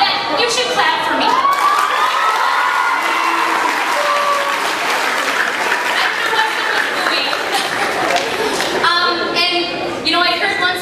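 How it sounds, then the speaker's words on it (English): An audience claps and cheers for a storyteller, with loud sustained applause mixed with whoops and excited children's shouts, and voices talking over it throughout. "Come on, you should clap for me."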